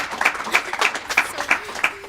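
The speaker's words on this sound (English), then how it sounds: "Let's give your girls a round of applause" A small group claps for the Kimberly girls soccer team at a varsity roundtable. About six distinct claps land at a fairly even pace, close and fairly sharp, with no one speaking.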